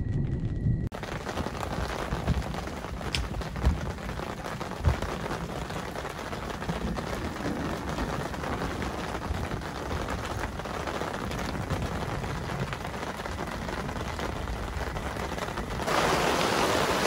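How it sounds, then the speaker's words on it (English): Heavy rain pours steadily during a thunderstorm on the Caddo River, a dense close hiss with occasional dull thumps and rumbles underneath, unbroken for the whole stretch and growing slightly louder near the end. "So it's officially raining,"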